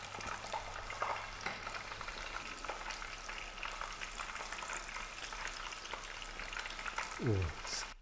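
Battered flowers sizzle and crackle steadily in a hot pan on an induction cooker, a continuous close frying hiss with a brief clatter near the end.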